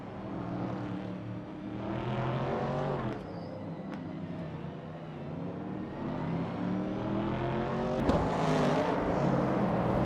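Race cars in a racing video game, engines droning and revving in rising and falling sweeps as cars pass close by, continuous and fairly loud with no talk over it.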